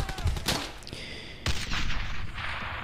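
Gunfire and a grenade blast in the World War II shooter game Brothers in Arms: Hell's Highway, with sharp close shots followed by a heavy explosion and rumbling debris.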